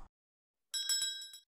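A notification bell sound effect rings once, a bright metallic ding with shimmering overtones that rises suddenly after a brief silence, fairly close and clean before fading.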